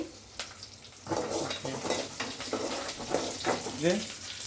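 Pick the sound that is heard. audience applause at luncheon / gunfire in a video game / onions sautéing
onions sautéing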